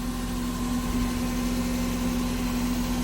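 A Subaru engine idles steadily just after a cold start, giving a constant low hum with a firm tone and no talking.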